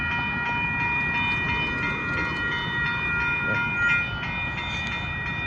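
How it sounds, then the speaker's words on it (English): Northbound Amtrak Texas Eagle 22 pulls in at Dittmar Road in Austin, Texas, a loud sustained rumble with steady tonal whine and rail noise, continuous throughout and close by. "Here comes Amtrak."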